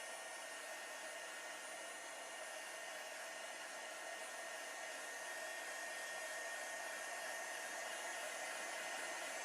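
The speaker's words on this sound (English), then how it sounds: "I'm just going to go ahead and apply my heat everywhere" A heat tool blows hot air steadily over Pentart fineline crackle medium to dry it, giving a constant, close, even whooshing hum that runs throughout with no talking.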